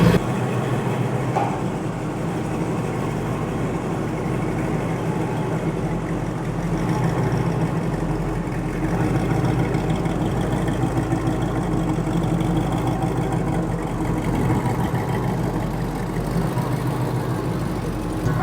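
The engine of a 1969 Chevrolet C10 pickup truck idles with a steady, low, rumbling drone. The sound stays close and even throughout, with no voices over it.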